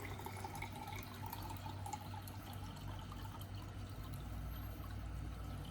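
Water runs from a water dispenser into a glass, a soft steady trickle and splash heard faintly and close, with no talking.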